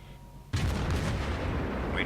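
Ship guns open fire on the Kuma in a naval combat game: after a quiet half second, a dense sustained barrage of booming shots with bursts and rumble continues steadily to the end, loud and close.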